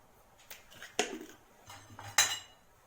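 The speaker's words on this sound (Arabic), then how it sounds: "نقلبه كويس كده" A spoon scrapes and clinks against a pot while lentils seasoned with cumin and salt are stirred, three or four distinct metallic strokes over quiet background.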